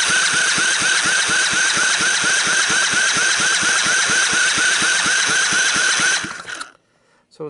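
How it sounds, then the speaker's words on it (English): A 110cc Sunl ATV engine cranks over on its starter during a wet compression test, a fast, even chugging rhythm with a whining motor, loud and close, stopping abruptly near the end. "I'm going to do a quick wet compression test on it"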